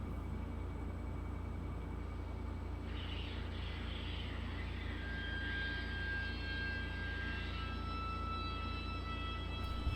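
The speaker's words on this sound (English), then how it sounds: "Most rockets do, RJ. Yeah, they're called ullage gases." A rocket on a test stand vents ullage gases, a steady hiss over a low hum, joined after a few seconds by rising, whistling tones that linger to the end.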